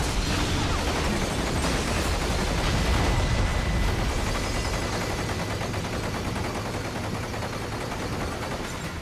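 A sustained barrage of gunfire and explosions in Metal Gear Rising: Revengeance, harsh rapid shots layered over rumbling blasts, staying loud before easing off slightly near the end.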